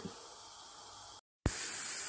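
A pressure cooker on a stove hisses in a steady, loud stream, cutting out briefly to silence before resuming even stronger and brighter.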